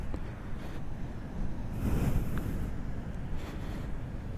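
Large ocean waves breaking on Pantai Dlodo beach in Tulungagung, heard as a steady, loud roar of surf with wind noise on the microphone, swelling to a fuller crash midway through.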